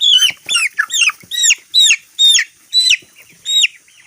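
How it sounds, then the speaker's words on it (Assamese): Forty-day-old broiler chickens giving a run of loud, close, high-pitched cheeping calls in quick repeated bursts, each a short falling chirp with brief gaps between. "এয়া 40 দিন বয়স হৈছে ব্ৰইলাৰ মুৰ্গীৰ"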